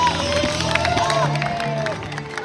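Arena crowd at a men's synchro 10m platform diving final cheers and applauds loudly after a dive, a dense continuous roar with clapping, while a commentator talks over it.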